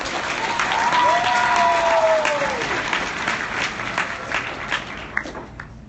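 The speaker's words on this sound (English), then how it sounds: "Yeah, okay, let's applaud." Sustained audience applause at an opening session for arriving Supreme Court justices, a dense steady wash of clapping that slowly thins toward the end, with a faint tonal whistle-like sweep early on.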